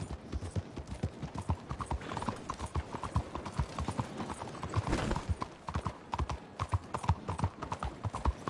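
Galloping horse hooves in the video game Red Dead Redemption 2, a steady rapid clip-clop beat running through the whole stretch at close range, with a brief whinny near the middle and no talk.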